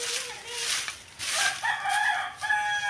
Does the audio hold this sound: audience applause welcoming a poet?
no